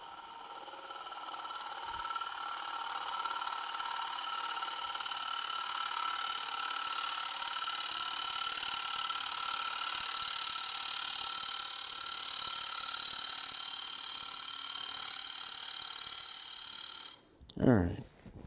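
A wood lathe turning a bowl while a gouge cuts, a steady whirring drone with a faint scraping texture, ending in a brief louder clatter.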